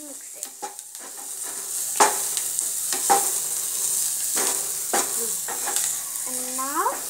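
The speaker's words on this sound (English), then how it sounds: "And now we'll put some onion. Then we'll mix it." Onion for spinach soup is stirred in a pan, with a soft sizzle under repeated light clicks and scrapes of a spoon, all fairly quiet and close.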